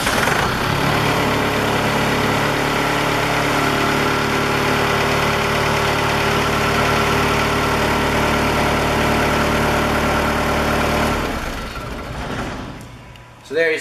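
A Gap Power Therm Dynamics heater engine idles at about 1,000 RPM with a steady, loud rumble and hum for several seconds before winding down near the end.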